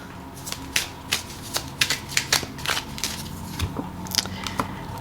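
Romance Angel Oracle cards are shuffled by hand, producing a run of quick papery riffles and taps at an uneven rhythm, close and clear with no talking.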